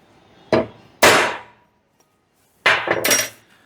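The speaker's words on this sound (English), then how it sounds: "Let me hit that with this punch here" A hammer strikes a metal punch set on a brake rotor for a 1965 Chevrolet C10, four sharp ringing metallic blows in two close pairs separated by a short pause, loud and near.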